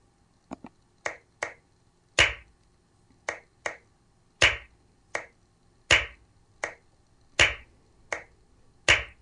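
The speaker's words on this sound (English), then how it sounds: "This one is a more typical hand clapping pattern." Sharp flamenco hand claps from a metronome app, crisp dry strikes in a repeating compás pattern with accented louder claps among lighter ones, close and alone with no talking.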